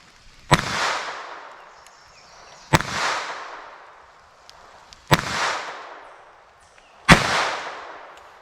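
A new handcannon-style pistol firing high-velocity hollow-point rounds: four loud, sharp shots spaced about two seconds apart, each followed by a long booming echo that fades before the next, with no talking.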